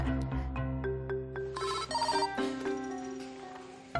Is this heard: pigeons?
no